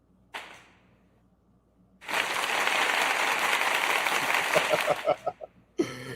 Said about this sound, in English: Gotta give my brother his applause.